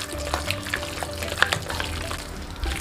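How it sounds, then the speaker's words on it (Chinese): Minced meat dumpling filling mixed with scallion-ginger water is stirred with wet, squelching, slapping strokes in an irregular rhythm, close and moderately loud, with no talking. "再倒入最后一次的葱姜水，继续搅拌均匀"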